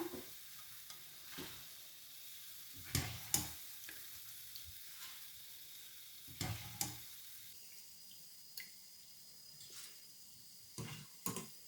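Boondi batter drops frying in hot oil for laddu, a soft steady sizzle broken by several sharp clinks and scrapes of a ladle against the pan, close-up and without talk.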